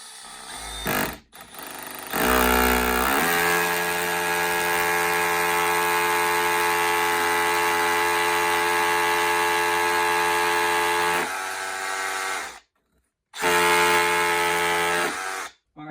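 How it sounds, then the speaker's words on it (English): An SDS hammer drill bores into a brick wall in a loud, steady, rattling run lasting several seconds, stopping briefly near the end before starting again. "Next step is to drill with your SDS drill or your regular hammer drill."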